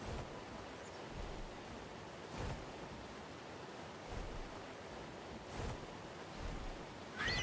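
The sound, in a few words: waterfall water rushing in ARK video game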